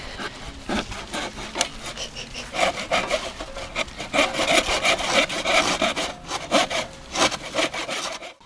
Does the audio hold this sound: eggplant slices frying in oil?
no